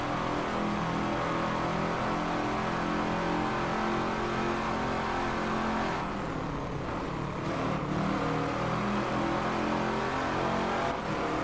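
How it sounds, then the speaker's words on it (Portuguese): The Wombat Typhoon 2-litre, a front-engined, rear-wheel-drive car in the racing game Drive Club, roars continuously from the interior view, revving up and down with a dense, steady engine drone and a brief dip midway. "O ronco, vou deixar você ver o ronco"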